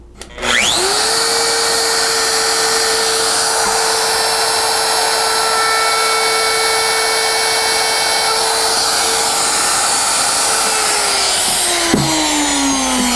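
A router fitted with a fine carving liner bit spins up to a steady high whine and cuts a line into a piece of scrap poplar, running loud and continuous before winding down at the end.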